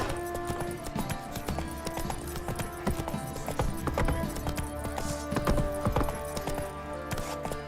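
Roach the horse gallops in the video game The Witcher 3, a quick rhythmic pounding of hooves with jingling tack, close and loud over background music.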